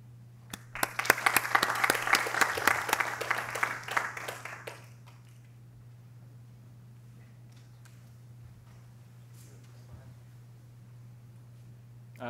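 Applause from a lecture audience welcoming a speaker: a burst of many claps for about four seconds that stops abruptly, leaving a quiet room with a low steady hum.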